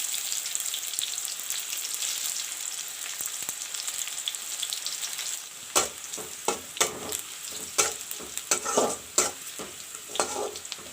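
Sliced garlic and a chopped medium onion sizzle steadily in a hot pan for palak and mustard saag, with a run of sharp, close scraping stirs joining the frying partway through.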